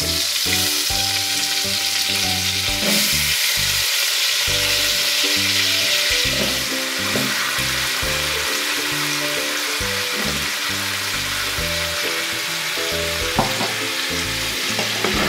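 Potatoes with garam masala fry in a pan with a strong, continuous sizzle. Repeated rhythmic scraping strokes stir them throughout, and there is no talking.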